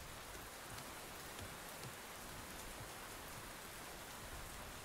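Steady rain falls continuously in the Len's Island video game, a dense, even hiss of drops with no pauses and no voices.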